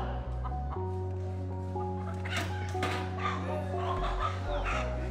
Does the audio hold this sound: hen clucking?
yes